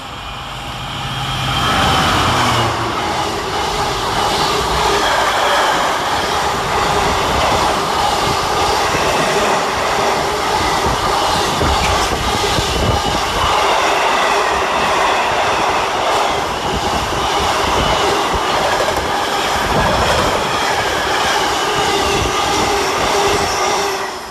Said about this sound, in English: Next up, we have a freight train in the form of 66032, running 7 minutes late with 4M83 from London Gateway through to Trafford Park Euro Terminal.